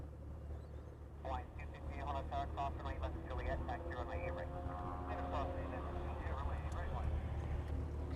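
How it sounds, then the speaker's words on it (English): A United airliner taking off at Honolulu airport gives a steady low engine rumble heard from a distance. A person talks over it the whole time. "This United's clear for takeoff now."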